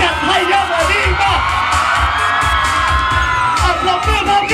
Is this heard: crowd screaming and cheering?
yes